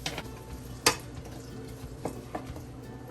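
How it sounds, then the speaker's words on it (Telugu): Onions fry in a pan toward golden brown with a quiet, low sizzle, broken by a sharp metallic clink of a utensil against the pan and a few softer taps and stirring scrapes. "సో ఇది గోల్డెన్ బ్రౌన్ కలర్లో వచ్చేంత వరకు దీన్ని ఫ్రై చేయాలండి"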